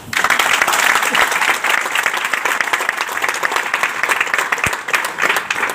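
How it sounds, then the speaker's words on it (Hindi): Loud, steady audience applause fills a hall during a spiritual talk on health and ancient scriptures, dense clapping sustained for the whole stretch without a break. "तो एक बार इस बात पे ताली होनी चाहिए।"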